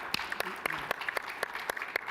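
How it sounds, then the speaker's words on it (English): Sparse, muted applause from a small executive symposium audience, with isolated claps at a loose, irregular rhythm across about two seconds, fairly quiet and close. "Go ahead and clap"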